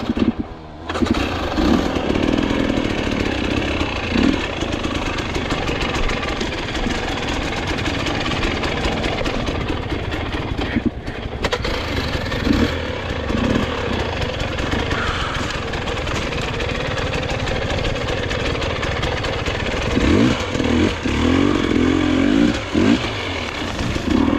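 KTM dirt bike on a hard enduro track at Kinglake, Victoria, its engine droning and revving loudly and continuously for over twenty seconds, with rough surges and throttle blips.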